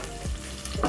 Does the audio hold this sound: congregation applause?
no